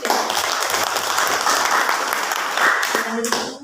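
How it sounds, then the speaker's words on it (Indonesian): Students in a classroom clap for a group after their presentation, a dense round of applause that fades near the end as a voice starts speaking. "Ya, tepuk tangan lagi."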